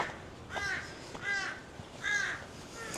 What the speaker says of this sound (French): il y a des corbeaux partout